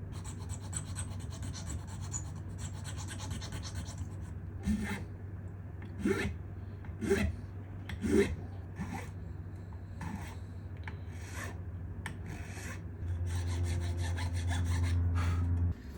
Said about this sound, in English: progressively make them wider, because the bigger files won't sit nicely in that little saw slot